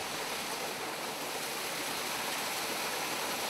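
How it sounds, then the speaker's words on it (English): Hot spring water on a farm flows steadily in a loud, continuous broadband rush, close by with no pauses and no voices. "look at this other spring we have here."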